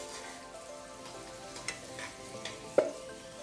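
Onions sizzle steadily in a hot pan while adobo is being cooked, with a few soft stirring clicks and one sharper scrape near the end.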